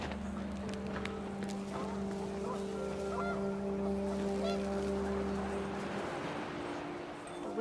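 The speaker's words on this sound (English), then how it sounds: "The wind picked up, and panicked geese appeared and quickly went." Panicked geese honking in the video game What Remains of Edith Finch, several honks and calls over a steady humming wind-like drone, with a faint voice nearby.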